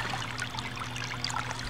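Creek water trickling and flowing in a current along a tiny creek, a steady close, soft burbling wash with no voices.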